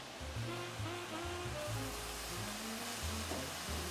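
Beef sears in a crowded hot pan, giving a steady broadband sizzle with low clattering and stirring underneath, moderately loud and continuous with no voices.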